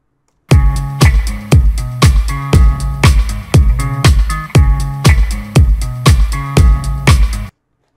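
Steady four-on-the-floor bass drum from an original track, loud thumping kicks driving under sustained tonal music and percussion for several bars, alone with no talk.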